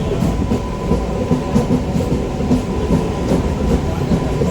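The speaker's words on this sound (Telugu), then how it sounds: "మన ట్రైన్ ఇప్పుడు ఒక నదిని క్రాస్ చేస్తోంది." A Kachiguda–Raichur MEMU train rolls steadily across a river bridge, its continuous loud rumble and rhythmic clatter of wheels filling the whole stretch without pause.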